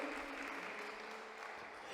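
A church congregation claps in praise, giving a soft, distant wash of steady applause that continues for a couple of seconds without any speech over it.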